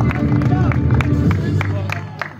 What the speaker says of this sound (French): est-ce qu'on peut l'acclamer très très fort?